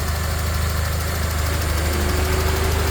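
A Toyota sedan's engine idles smoothly and steadily up close, a low continuous hum with a faint mechanical tick and no voices.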